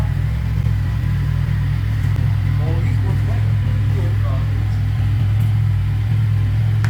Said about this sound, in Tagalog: Sound check muna natin yung stock na exhaust para mamaya makumpara natin